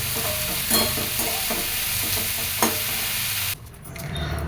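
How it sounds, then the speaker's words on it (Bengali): Curry with green chillies and Kashmiri chilli powder sizzles steadily in a pan while a spoon stirs it in repeated scraping strokes. The frying noise drops away sharply near the end. "এটা এবার নাড়িয়ে দেবো"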